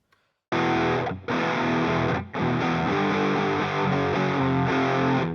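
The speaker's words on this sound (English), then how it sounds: "this one is called the Zoom G1XNEXT, and it's also got a expression pedal" Electric guitar through a Zoom G1XNEXT multi-effects pedal, a heavily distorted, dense tone that starts abruptly after a brief silence and rings in sustained chords with two short breaks, loud and alone.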